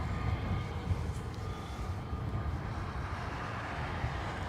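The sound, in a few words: Aer Lingus airliner taking off, Dublin Airport runway 10 right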